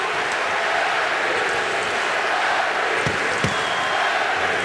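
Hockey crowd at Madison Square Garden during a Hurricanes–Rangers game, a dense, steady roar of massed voices chanting that fills the whole clip, with a couple of sharp thuds near the end.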